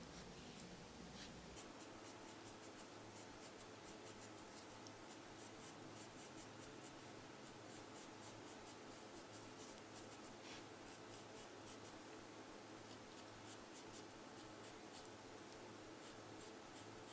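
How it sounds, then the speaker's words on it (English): A white charcoal pencil strokes paper to draw fine white hairs, giving a steady, soft, close scratching with quick repeated strokes throughout and no voices. "And use my charcoal pencil, my white charcoal pencil, draw a few white hairs."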